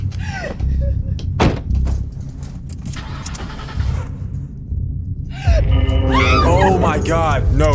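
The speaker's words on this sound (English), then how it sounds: "Just close the door, please." A car door is shut with a solid thump during a tense scene, with keys jangling, an engine idling under it and people speaking around it.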